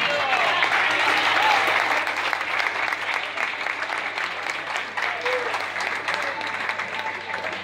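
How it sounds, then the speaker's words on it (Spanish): Audience applause at a tango concert by a típica orchestra, dense and steady clapping from a full room that sustains throughout, with a voice briefly audible beneath it. "Un aplauso para él."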